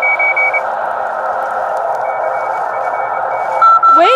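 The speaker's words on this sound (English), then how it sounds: "Wait, it's Morse code." Morse code tones come through a portable ham radio receiver: short keyed beeps at the start and again at the end over a steady band of loud radio hiss and static.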